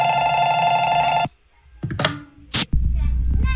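A telephone bell rings loudly and continuously with a bright, tonal ring for over a second, then stops, followed by a few thumps and clatters and a voice speaking.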